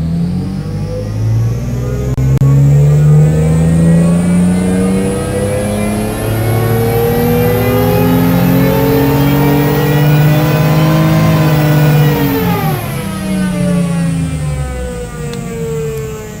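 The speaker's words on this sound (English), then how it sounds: "we're at wide open throttle and we can start our run" A car engine held at wide open throttle during a tuning run, revving steadily and loudly with a smooth rising pitch for about twelve seconds before dropping off.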